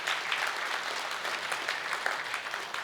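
A luncheon audience at the Georgia Faith & Freedom Legislative Luncheon claps steadily for a legislative achievement, a dense, even wash of applause throughout with no pause.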